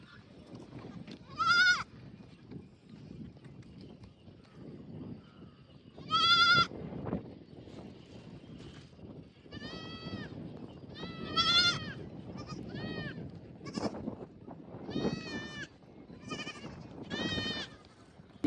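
A flock of sheep walking with a pilgrimage procession bleats repeatedly, several loud cries rising in bursts over a low murmur of shuffling movement and distant activity.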